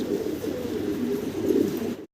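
Fancy pigeons coo in low, soft rolling calls close by, a continuous murmuring burble that cuts off abruptly at the end.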